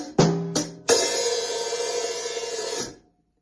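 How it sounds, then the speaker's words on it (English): Short drum pattern alone: two closed hi-hat strokes with a quiet ghosted snare between, then an open hi-hat that rings and sustains for about two seconds before being choked. "Right on the hi-hat, left on the snare ghosted, another right on the hi-hat, and then you open your hi-hat at the end."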